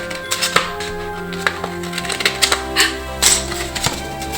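Paper being cut with scissors for a children's Snow White craft, a series of crisp close snips and rustles at an uneven pace.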